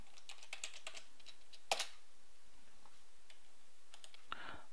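Scattered keystrokes on a computer keyboard as a command is typed into a Windows 7 command prompt, close and quiet, with irregular taps and one sharper clack.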